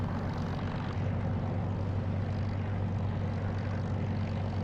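A Spitfire's piston engine rumbling steadily while taxiing in the DCS flight simulator game, a continuous low propeller drone with no pauses and no voices.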